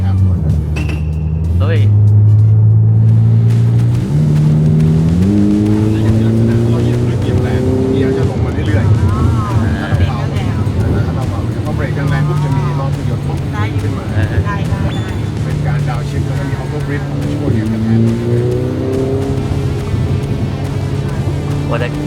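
A Ferrari's engine roars as the car accelerates, its pitch climbing and dropping with quick gear shifts, loud and continuous from inside the car while people talk over it.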